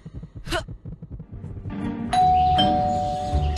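A school doorbell in Scary Teacher 3D rings out as a clear two-tone ding-dong that sustains and rings down, loud and close, after some thumping footsteps and light game noise.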